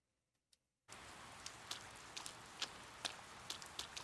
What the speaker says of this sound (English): Oh dear, rainy.